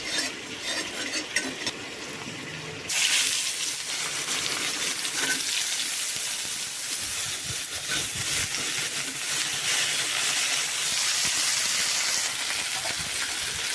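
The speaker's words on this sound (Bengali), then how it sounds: "আবারও একটু তেল দিয়ে তাতে কেটে রাখা ঝিঙে আর বেগুনগুলো দিয়ে দেবো" Ridge gourd and eggplant frying in oil in a wok, a steady loud sizzle and hiss that jumps up sharply after a quieter opening and then holds broad and close, with faint stirring clatter.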